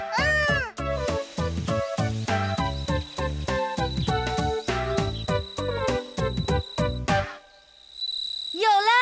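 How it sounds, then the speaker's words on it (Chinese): Cartoon insect chirping like a cricket rubbing its wings, a loud, rapid series of pulsed trills for about seven seconds, then a short pause and a brief voice at the end. "有虫鸣的声音"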